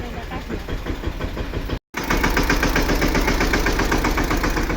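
A loud tractor engine chugs steadily with a rhythmic knocking idle, briefly cutting out for a moment before resuming just as strongly.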